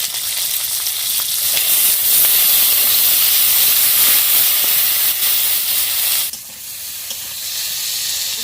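Cumin and chili paste with tomato hitting hot oil in a rural village kitchen, a loud, steady hiss and sizzle that drops off abruptly near the end to a softer bubbling fry.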